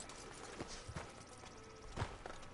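Horse hooves clip-clop at a slow walk in the video game Red Dead Redemption 2, a few soft irregular thuds over quiet ambient background, faint and fairly close.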